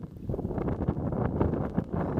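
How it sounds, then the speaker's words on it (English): Wind gusts roar steadily across an open river near a sandbar while kayaking, buffeting the microphone with a low rumble and faint splashing underneath, and no one speaks. "Alright, it's windy again."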